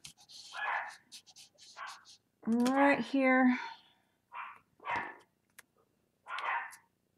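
A dog barks indoors through an open basement door during a craft session: a few short, moderately distant barks and yips scattered between bits of nearby talk.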